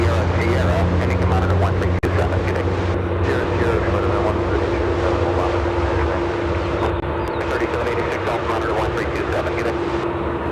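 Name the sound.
Coletta Air 868 taking off to Anchorage at Chicago O'Hare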